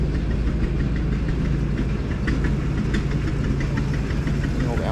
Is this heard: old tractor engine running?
yes